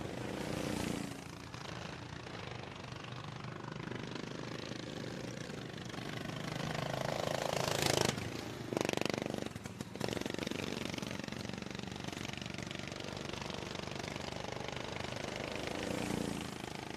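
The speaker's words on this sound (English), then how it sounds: "As we got our mowers on track" Racing lawn mower engines drone and buzz on a track, a continuous mechanical roar that swells and fades as machines pass, with a louder surge near the middle.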